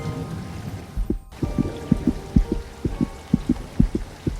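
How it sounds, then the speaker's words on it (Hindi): Heartbeat effect for a Hindi horror story: a steady, fairly quick double-thump pulse repeating throughout, low and close, with no voices over it. "दिल कुछ तेजी से धड़कने लगा"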